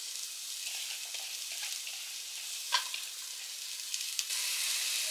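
Onions frying in a hot pan while a chicken dum biryani is prepared, giving a steady, close hiss of sizzling throughout, with a couple of faint clinks and stirs.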